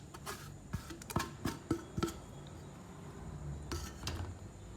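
Spoon clinks and scrapes against a bowl as spices are mixed together for a Sri Lankan-style chicken dish, a series of sharp irregular taps over a quiet background with no talk.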